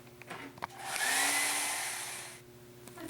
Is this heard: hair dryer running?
yes